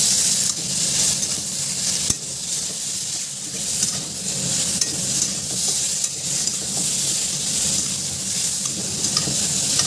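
Spices sizzle and crackle loudly while being sautéed in a pan, a dense continuous frying hiss with stirring scrapes and a sharp utensil knock near the start, close up and without voices.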